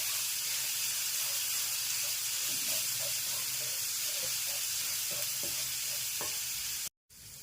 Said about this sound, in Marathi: हे एखादं मिनिट चांगलं परतून घ्यायचं आपल्याला,